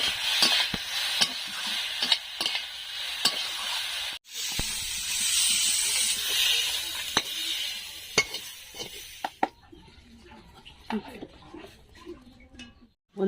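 Pumpkin greens with poppy seeds stirred in a hot pan: loud hissing sizzle with repeated scraping strokes, a brief break near four seconds, then fading to quieter, sparser clicks and scrapes in the last few seconds.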